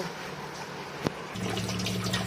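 Running water splashes as salted fish is rinsed by hand, with a brief knock partway through and then a fuller, louder gush of water, close and continuous.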